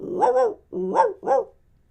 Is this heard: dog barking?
yes